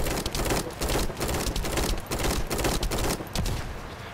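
Enemy gunfire in The First Descendant video game: dense, rapid bursts of shots rattle continuously in loud, irregular clusters throughout, with no talk.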